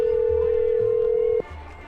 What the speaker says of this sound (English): Hello? Hello? Phone is ringing.